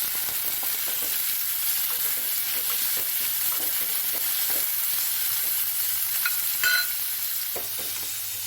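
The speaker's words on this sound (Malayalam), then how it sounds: "കൊച്ചുള്ളി കറിവേപ്പില ചേർത്ത് കൊടുത്തിട്ടുണ്ട്." Shallots and curry leaves fry in hot oil for a Kerala muthira (horse gram) dish, giving a steady close sizzle with scattered crackles and pops and occasional stirring scrapes, no voices.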